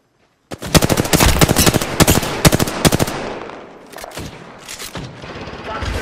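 Rapid bursts of automatic gunfire in Apex Legends crack loudly and densely, with heavy volleys in the first few seconds that thin into scattered shots and softer trailing echoes.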